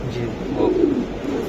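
Racing pigeons give a short, soft coo close by, a brief throaty burble heard amid background chatter of people talking.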